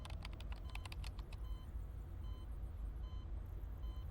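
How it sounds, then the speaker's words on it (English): Fast, furious keyboard typing from the Girls' Frontline 2: Exilium video game: a rapid flurry of clicks that stops abruptly after about a second and a half, leaving a steady background hum. "The furious typing sounds almost like a sound in downpour."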